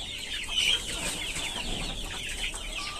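Native deshi chickens cluck and chatter nearby in a farm coop, some of the flock infected, over a steady hiss of background noise, with no talking.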